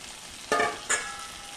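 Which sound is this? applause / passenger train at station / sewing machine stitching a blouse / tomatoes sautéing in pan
tomatoes sautéing in pan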